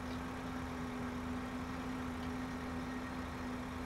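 A tractor engine in Farming Simulator 2013 idles with a steady low hum, holding one unbroken drone for about four seconds, fairly quiet and alone without voices.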